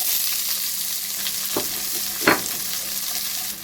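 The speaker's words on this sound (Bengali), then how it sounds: "এবারে আমি পেঁয়াজ কুচিয়ে রেখেছিলাম পেঁয়াজ কুচি দিচ্ছি" Chopped onion fries in oil spiced with cumin tempering for chicken malai curry, a steady close sizzle running throughout, broken by a couple of brief scraping stirs.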